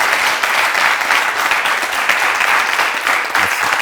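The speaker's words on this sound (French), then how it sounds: "je voudrais qu'on applaudisse le parcours de l'homme." An audience applauds at a public tribute event, a dense, steady wash of clapping that lasts the whole stretch without pause.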